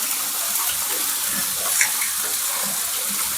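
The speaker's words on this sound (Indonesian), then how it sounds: "Mbak Suci lagi mandi" Water splashes and pours steadily as a woman bathes outdoors, a continuous close wash of flowing, gushing water with no clear voices.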